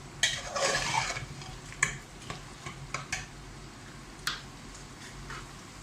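A masala of ground whole spices being stirred and fried in a pan, with a spatula scraping and tapping the metal in sharp, irregular clicks over a low sizzle.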